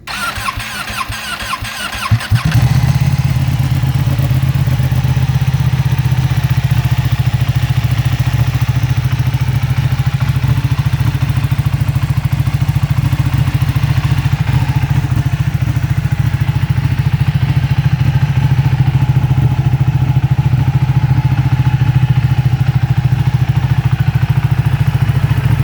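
A Ducati 1199R motorcycle cold-starts after a brief cranking clatter, then settles into a loud, steady, deep idle that rumbles continuously and close for over twenty seconds with no talk.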